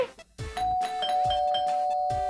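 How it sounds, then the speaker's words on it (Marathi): A doorbell rings indoors, its clear electronic chime tones sounding in repeated pulses with a sustained ringing note, loud and close. "बेल कशाला वाजवली?"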